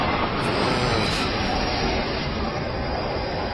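A train rushing past at close range, a loud, steady roar of wheels and rail noise filling the whole clip without letting up, with no voices over it.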